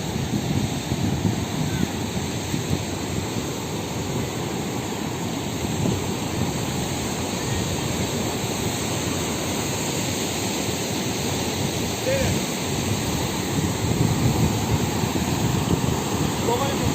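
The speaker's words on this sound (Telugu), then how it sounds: "అన్నారం చెరువుది మత్తడి పడుతుంది" Water overflowing the spillway of Annaram lake after heavy rain gives a steady, rushing roar, broad and continuous, like a small waterfall heard close by.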